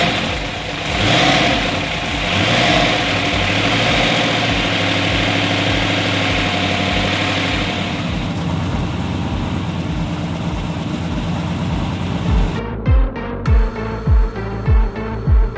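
A Fast & Furious Dodge Charger engine idles loudly on a dyno with a deep, steady rumble and slight surges, then cuts to a few sharp, rhythmic throttle blips near the end.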